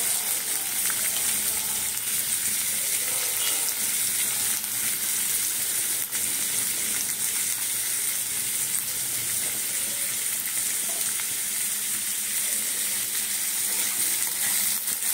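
Onion sliced for paratha fries crisp in a pan like birista, a loud, even, continuous sizzle and hiss close up with faint stirring, no voices.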